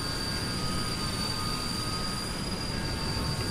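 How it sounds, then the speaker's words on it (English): A nearby aircraft engine in Microsoft Flight Simulator, with the plane on the ground beside the player's aircraft, gives a steady loud broadband roar and high whining tones that hold without a break for the whole stretch, with no voices. "Not sure what plane that is, but there is a plane somewhere near us."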